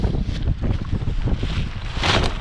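Strong wind of about 20 knots blowing over a SUP sail at sea: a loud, continuous roaring rush with heavy buffeting on the microphone and the surge of water, no talk.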